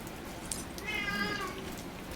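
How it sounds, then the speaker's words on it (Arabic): A cat meowing in the horror video game Resident Evil Requiem, one drawn-out plaintive meow over a soft hiss of rain-like ambience, with a brief click just before it. "القط ده هيجننا يا جدعان"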